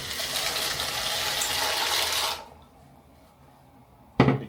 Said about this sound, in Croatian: sipam makarone.